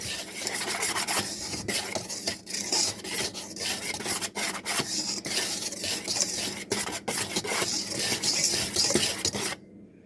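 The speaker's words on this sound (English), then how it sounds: "I'll whisk it all together, these dry ingredients, so that it'll be evenly dispersed in this recipe" Dry ingredients for lemon bars are whisked in a bowl with a steady, close scraping and rasping that runs continuously for about ten seconds, then stops abruptly.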